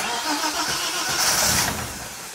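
A turbocharged BMW E30 on jack stands cranks and tries to fire for its first start, a continuous rough mechanical churn that rises briefly midway and never settles into a steady idle, close and fairly loud, with no talking.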